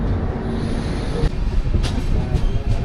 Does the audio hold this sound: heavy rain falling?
no